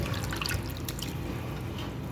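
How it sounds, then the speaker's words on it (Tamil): Basmati rice being gently washed by hand in water in a home kitchen for mutton dum biryani, with soft continuous sloshing and drips close by, steady and moderately quiet, no talking. "ஸோ ரைஸு நல்லா கழுவிக்கலாம் இந்த மாதிரி தான் கழுவணும் மெதுவாக நான் பாஸ்மதி ரைஸ் உடஞ்சிடும்"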